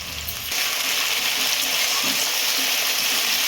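Capsicum, beans and other vegetables frying in a pan for fried rice: a loud, steady sizzle that starts after a brief quieter moment and carries on evenly.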